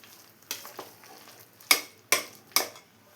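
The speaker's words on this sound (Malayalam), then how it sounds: "ഇതെല്ലാം കൂടെ ഒന്ന് മിക്സ് ചെയ്ത് കൊടുക്കാം." Crushed shallots, green chilies and curry leaves stirred in a pan for Kerala-style paal kappa, five distinct scraping strokes with short sizzling bursts over a quiet background.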